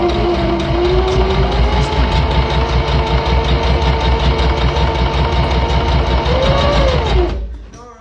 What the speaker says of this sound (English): And then you can begin sewing in a straight line